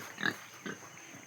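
A pig, one being sold off cheaply, grunts twice, a louder grunt early and a softer one shortly after, close by with no talk and a faint steady hum behind.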